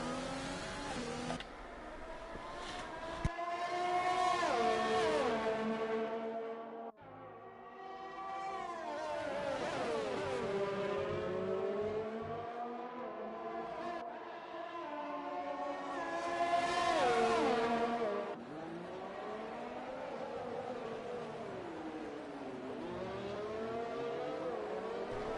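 F1 race cars lapping the Canadian Grand Prix in an F1 esports video game, engines whining and rising and falling through gear changes, with two cars close together, loud and continuous with no talk.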